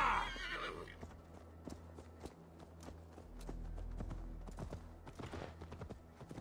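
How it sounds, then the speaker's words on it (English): A horse in Assassin's Creed Valhalla whinnies loudly at the start, followed by a steady clip-clop of hooves and a low rumbling hum underneath. "This horse ain't fast at all."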